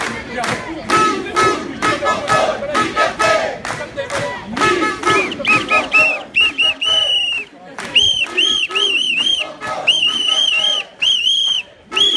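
A loud whistle is blown repeatedly in sharp bursts at a Nuit Debout street protest on Place d'Italie, first over chanting crowd voices and then as long shrill blasts that nearly stand alone.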